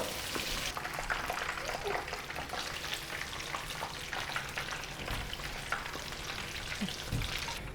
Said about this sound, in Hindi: मछली को फ्राई करते वक्त साथ ही हम छुरी की मदद से इसमें कट्स लगाएंगे।